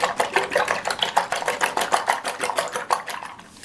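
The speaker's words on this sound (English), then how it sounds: "And then we're going to beat up these eggs" Eggs beaten with a springy whisk gadget in a kitchen, a fast steady rhythmic rattling of wire against the bowl, close and continuous for a few seconds.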